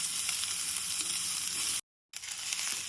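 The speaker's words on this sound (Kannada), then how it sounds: "ಇವಾಗ ನಾನು ಈರುಳ್ಳಿ ಹಾಕ್ಕೊತಾ ಇದ್ದೀನಿ. ಈರುಳ್ಳಿನ ಚೆನ್ನಾಗಿ ಫ್ರೈ ಮಾಡ್ಕೊಳ್ಳೋಣ." Onions frying in a pan for vegetable upma, a bright steady sizzle up close with faint stirring, broken by a short silent gap before the hiss resumes.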